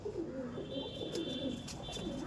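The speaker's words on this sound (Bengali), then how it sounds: "আমাদের জাহির বাপিদার এই একটি পায়রা দেখুন" A pigeon in a loft coos in soft, repeated low rolling calls, close but quiet, with little else around it.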